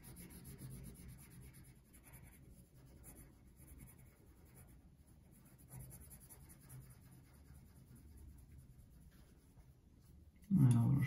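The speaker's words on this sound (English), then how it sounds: "a little shading to his face as well while I have the pencil here" Pencil shading on paper while drawing Wakko Warner from Animaniacs, a soft continuous scratchy rubbing close to the microphone, faint and steady, ending in a louder knock.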